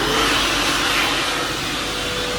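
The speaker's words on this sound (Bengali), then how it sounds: "হ্যান্ড ড্রায়ার রয়েছে" A washroom hand dryer aboard a Vande Bharat sleeper train blows with a loud, steady broadband whoosh that holds unchanged throughout, with no talk.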